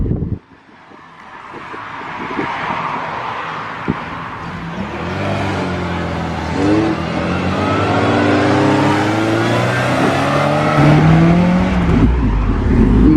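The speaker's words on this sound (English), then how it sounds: "Pair of minis are off now." Two Mini cars rev and accelerate away from a car meet at Combermere, their small engines' pitch climbing in repeated sweeps through the gears, loud and steady with no talking.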